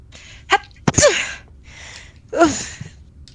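A voice imitates a stifled sneeze during a tabletop role-playing session: a short sharp puff, a gasping build-up, then a loud burst, followed by a second breathy sneeze-like burst.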